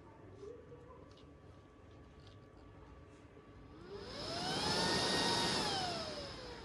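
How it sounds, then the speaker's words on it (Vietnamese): A Japanese rocket-type exhaust fan starts up from low background noise and winds up to a loud, rising whine with a powerful rush of air, its motor pitch sweeping upward and holding steady near the end. "Các bác có thể nghe thấy cái tiếng động cơ của nó chạy."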